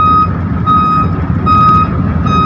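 A lowboy trailer truck backing up sounds steady, loud reversing beeps, about four evenly spaced tones, over a heavy low diesel rumble nearby.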